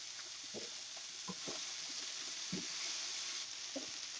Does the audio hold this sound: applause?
no